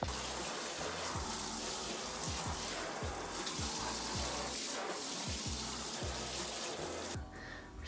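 Steady rushing spray of cold shower water fills the space, a constant hiss with low thumps mixed in as a sweatshirt is washed, cutting off abruptly near the end.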